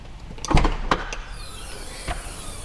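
A Renault ZOE Riviera Limited Edition boot is opened with a few short mechanical clicks and a thud close by, then a faint later click. No one speaks.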